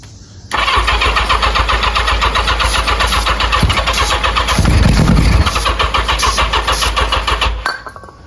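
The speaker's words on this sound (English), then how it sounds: "Tristan's gonna go for start here." A 1985 Yamaha XJ700 motorcycle being revived with starting fluid cranks briefly and catches, then runs loud and close at a rough, steady idle with a brief rev before shutting off near the end.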